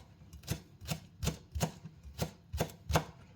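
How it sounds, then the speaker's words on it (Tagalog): A knife cutting through a large spring onion on a board, about nine crisp, evenly spaced chops in a quick steady rhythm, close and clear with no talking. "hiwain natin sa gitna kasi medyo malaki ang ating spring onion"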